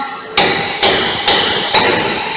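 Four loud metallic hammer strikes drive a bearing race into a wheel hub at a steady, even pace, each ringing sharply before the next blow, close up with no talking.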